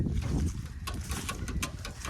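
A low, rumbling tractor engine runs steadily nearby, with wind buffeting the microphone and faint clattering on top.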